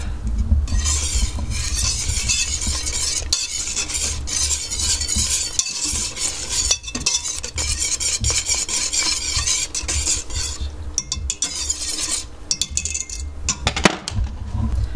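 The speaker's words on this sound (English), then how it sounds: "We're gonna stir that and we're gonna bring that to a boil." Spoon stirring a cookie mixture of cocoa and salt in a pot, continuous close scraping and swishing with occasional metallic clinks, alone without talk.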